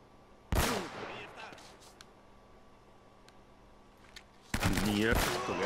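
Gunfire in the video game Uncharted: two sharp, loud bursts of shots at the start and near the end, with a quieter stretch between and a voice talking over it.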